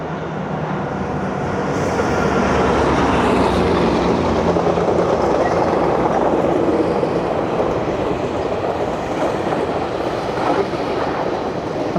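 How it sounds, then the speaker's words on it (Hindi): A train rolls past in Toronto in a steady, loud, continuous rumble with a broad rushing roar and faint clickety-clack, holding for the whole stretch with no talk over it. "ये लो, अभी फिर एक ट्रेन आ गई है।"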